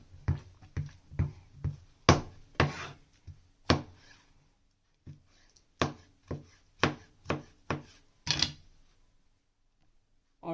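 Knife slicing tomatoes on a cutting board while cooking smoky baingan bharta, about fifteen crisp, close chops in uneven bursts with short pauses between runs.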